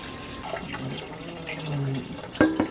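Cold water running from a tap into a pot of simmering fish bones, a steady gushing pour with splashy bursts toward the end, heard close.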